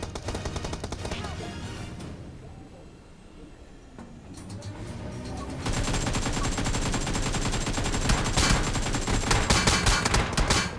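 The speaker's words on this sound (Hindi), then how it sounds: "मुझे फायरिंग की साउंड और काफी सारा फुट्स आना शुरू हो जाता है" Rapid bursts of gunfire crackle in a solo-versus-squad battle royale video game match, fading briefly before erupting into sustained, loud automatic fire with dense overlapping shots.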